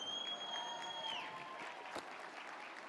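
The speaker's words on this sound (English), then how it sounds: "normally people have bad dreams about standing on stage and getting booed" Audience noise filling a speech hall at a CPAC 2019 political event, a sustained dense crowd roar with a brief sharp accent near the middle and a whistle-like tone fading early, steady and loud throughout with no speech.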